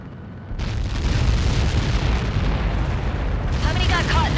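A huge explosion from a projectile impact in the Ace Combat 7 combat flight game, a sudden loud roaring blast that rumbles on for several seconds, with a radio voice coming in near the end.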